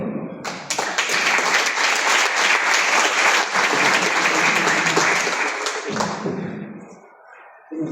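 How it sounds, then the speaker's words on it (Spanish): A conference audience bursts into loud, sustained clapping to welcome speakers from TEC-NM on wetlands and sanitation technology, the dense applause holding steady for about six seconds before tapering off, with a few murmuring voices at the tail. "Recíbalos con un fuerte aplauso."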